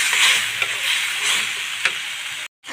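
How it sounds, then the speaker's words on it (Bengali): A spice paste sizzles steadily in hot oil as it is stir-fried for a hilsa fish curry with taro, with soft scraping stirs over the frying hiss, close and loud, before a brief break near the end. "তো আমি মশলাটা এখানে আমি 10 মিনিট কষাচ্ছি।"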